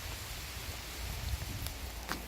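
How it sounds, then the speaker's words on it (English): Steady rain coming down on a trail campsite along the Ice Age Trail, a soft continuous patter with occasional sharper drop hits, close by and alone with no voices. "the rain is coming down pretty good"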